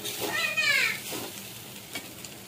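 Soybean chunks fry in a pan at home, a soft hiss with faint stirring scrapes and a couple of light clicks, while a brief high child-like voice chirps nearby early on.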